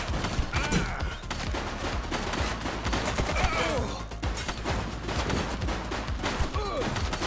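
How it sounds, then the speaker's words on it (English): Dense, continuous gunfire rages in the police game The Precinct, with rapid bursts and volleys of shots crackling loudly and close for several seconds, mixed with crashing impacts and brief voices underneath. "Shots fired!"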